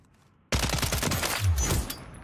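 A loud automatic burst of gunfire from a weapon in Call of Duty: Warzone starts abruptly after a brief quiet, a rapid run of close shots lasting well over a second.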